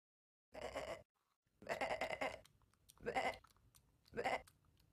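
Goats bleat in four separate drawn-out calls, loud and close, each separated by short silences.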